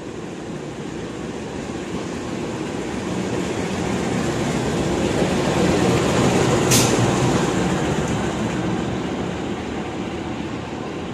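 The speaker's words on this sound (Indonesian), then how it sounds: "dari arah timur melintas langsung lokomotif dinas." A service locomotive passing directly along an Indonesian railway line from the east, a steady broad rumble and roar that swells toward the middle as it goes by, then eases slightly, with one brief sharp high squeal near the peak.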